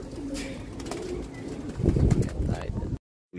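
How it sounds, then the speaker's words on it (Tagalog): Pigeons cooing outdoors on a warm, overcast afternoon, soft low coos mixed into a busy background of wind and ambient noise, moderately close, with a louder burst of rustle partway through before cutting off. "yun mga kalapatids"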